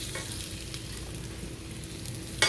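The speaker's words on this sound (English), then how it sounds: "I'll take just two bananas and stir them here too," Two bananas sizzle and fry in a pan while being stirred, giving a steady close crackle with a brief louder scrape near the end and no voices.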